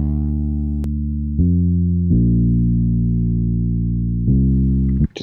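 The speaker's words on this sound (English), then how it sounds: "And then the distortion, added a buzz, like kind of some fuzz to the top" A lo-fi hip hop melody played with a distortion effect that adds buzz and fuzz: sustained, harmonically rich synth notes changing pitch a few times, gritty and steady, with no talking.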